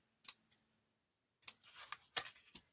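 Small scissors snip ribbon ends on a handmade poinsettia tag, a few quiet crisp cuts separated by brief pauses, close and alone.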